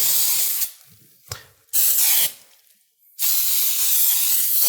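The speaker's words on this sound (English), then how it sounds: "Let's just give this a quick spray." Three hissing bursts of cooking spray onto a baking pan, the first and last longer, separated by quiet gaps, close and loud.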